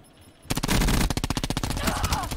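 Call of Duty Black Ops 4 match: after a quiet start, loud sustained automatic gunfire erupts, rapid evenly spaced shots hammering close for nearly two seconds.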